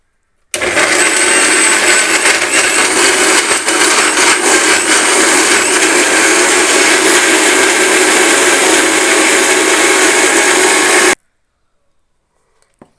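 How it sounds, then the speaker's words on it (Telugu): A mixer grinder whirs at full power, blending ash gourd pieces, ginger, lemon with its peel and water under a closed lid; a loud, steady motor roar runs about ten seconds, then cuts off abruptly into silence. "దీనిలో బూడిద గుమ్మడికాయ ముక్కలు, అల్లం కొంచెం, లెమన్, కొంచెం వాటర్ మూత పెట్టేసి మిక్సీ పట్టండి"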